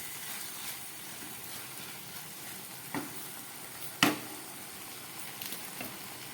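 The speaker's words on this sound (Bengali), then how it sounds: "রান্না করলাম আলু দিয়ে, চাল কুমড়ো দিয়ে, চিংড়ি মাছ দিয়ে একটা তরকারি" Ash gourd, potato and shrimp curry sizzles softly in a pan, a faint, steady frying hiss with a few sharp stirring clicks and scrapes, no voices.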